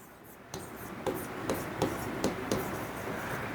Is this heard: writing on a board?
yes